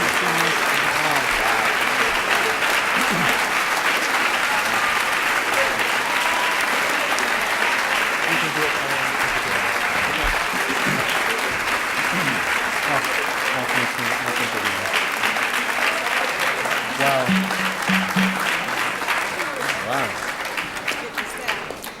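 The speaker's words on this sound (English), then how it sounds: "give Ms. Taylor another round of applause" A Seattle audience gives Susan L. Taylor sustained, dense applause at an evening speaking event, a loud continuous roar of clapping that thins slightly near the end, with speech faintly mixed in.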